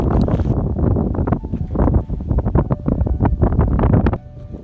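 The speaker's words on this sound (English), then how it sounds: "Oh, I can feel that wind now." Strong wind buffeting a boat out on icy water, a loud, steady rushing roar that gusts and dips for several seconds before easing near the end.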